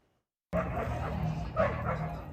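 Dogs bark and yip at a dog-friendly restaurant with dog parks, a couple of nearby barks rising over busy crowd murmur and voices.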